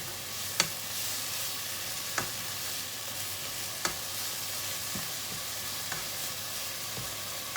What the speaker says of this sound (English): While it's just frying gently for a moment